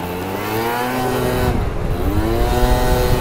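A 50cc four-stroke scooter engine revs up and down close by, a loud, buzzy drone whose pitch sweeps upward, dips briefly, then climbs again.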